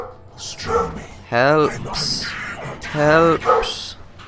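A dog barks in short, sharp bursts around someone talking during a Dota 2 game. The barks cut in and out, some yelpy, fairly close and loud.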